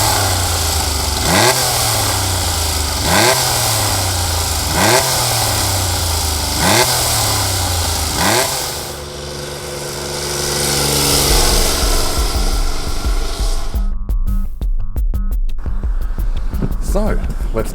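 A Triumph triple motorcycle engine on a road ride revs up repeatedly in a steady rising-and-shifting rhythm, loud and close, with rushing wind over the throttle changes.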